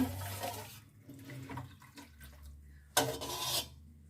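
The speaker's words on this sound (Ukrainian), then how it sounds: "Заливаємо цим маринадиком." Carrot marinade with oil is poured over small late-season greenhouse peppers, giving a wet splashing pour with light clinks against the dish, busiest early and again in a brief louder burst near the end.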